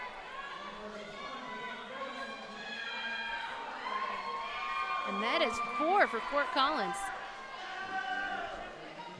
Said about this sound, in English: A lot of cheering from the, I'm assuming, Fort Collins crowd out there.